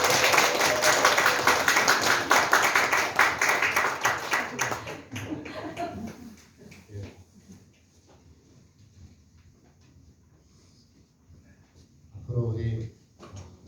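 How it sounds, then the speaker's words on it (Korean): A church congregation at a Korean Sunday service claps in loud, dense applause for about five seconds, then fades as someone talks. A brief rustle or knock comes near the end. "앞으로 더 열심히 주에서 잘 감당하시는 큰 박수로 우리 환영합니다"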